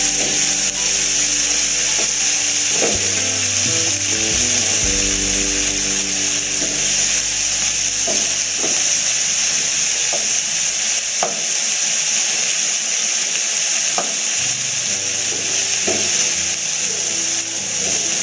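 Tomatoes and onions sauté with salt in a pan, giving a steady, loud broadband sizzle that runs for the whole stretch, with occasional scrapes and taps of a stirring spoon and no voices.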